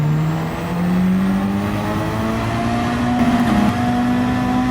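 A BMW race car engine in Gran Turismo drones loud and continuous, its pitch climbing steadily as the car accelerates, with a brief dip near the end like a gear change.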